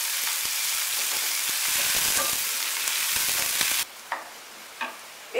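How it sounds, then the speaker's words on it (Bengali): Chopped onions frying lightly in a pan, a loud dense sizzle that suddenly drops to a quieter bubbling with a few faint clinks of stirring. "কুচিগুলো আমি একটু হালকা করে ফ্রাই করে নেব।"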